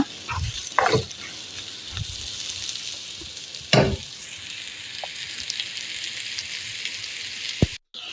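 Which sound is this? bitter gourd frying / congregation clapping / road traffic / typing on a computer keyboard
bitter gourd frying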